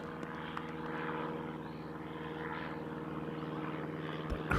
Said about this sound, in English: So we hear a small plane fly over from one of the airports around.